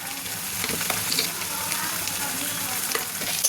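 Pasta with tomato sauce and salt sizzles and fries in a pan while being stirred, a steady crackling hiss broken by soft scraping and clatters of the spoon, close up and fairly quiet.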